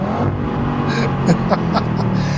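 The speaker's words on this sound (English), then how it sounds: "So when you floor the throttle, it means floor the throttle." An Audi RS3 hatchback accelerates hard at full throttle, a loud steady engine roar heard from inside with a few brief higher bursts as it pulls.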